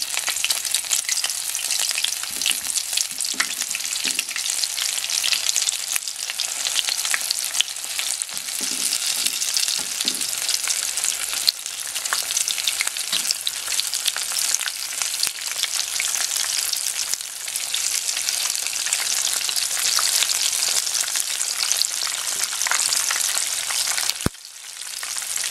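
Breaded shrimp (ebi fry) deep frying in hot oil, a loud, steady, bright sizzle and crackle that fills the whole stretch without letup, heard alone with no talking.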